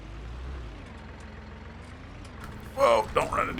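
Massey Ferguson tractor in Farming Simulator 19 on a mountain homestead, a low steady engine hum with a faint rising whine, followed by a louder clatter of mechanical noise near the end.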